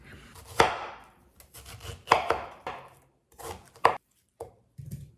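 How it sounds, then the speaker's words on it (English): Half an onion chopped into small pieces with a knife on a cutting board, a series of sharp close chopping strikes in uneven clusters with brief pauses, without talk. "So I also cut the half of the onion into small pieces"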